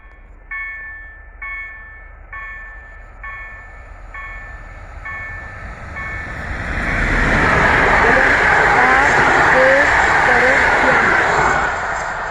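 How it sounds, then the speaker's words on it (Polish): A level-crossing bell rings in regular chimes at Żylice, Poland, then stops as a five-carriage train rumbles past loudly and steadily, with a voice speaking briefly over it. "Właśnie idzie pociąg w ogóle do, do Poznania."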